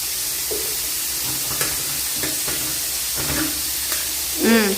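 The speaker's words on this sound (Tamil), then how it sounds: "இன்னும் கொஞ்சம் கல் உப்பு போட்டு நம்ம வெங்காயத்தை வதக்கணும்னா சீக்கிரம் வதங்கிடும்" Onions sautéing with rock salt in a pan for chicken curry give a constant loud sizzle and hiss, with occasional stirring scrapes and a brief voice near the end.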